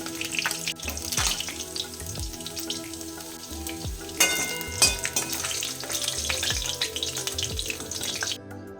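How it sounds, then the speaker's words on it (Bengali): Small mourola fish frying in hot oil in a home kitchen, with a steady close sizzle and scattered clinks of a utensil turning them, occasional louder spits of oil. "এক পিঠ ভাজা হয়ে গেছে, অপর পিঠ উল্টে ভেজে নেব। মাছ ভাজা হয়ে গেছে, তুলে নেব।"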